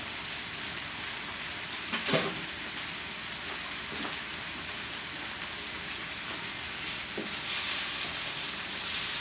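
Steady sizzling of garlic and onions frying in a pot, a constant crackling hiss with a few louder pops and stirring clatters now and then.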